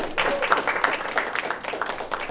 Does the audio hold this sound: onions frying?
no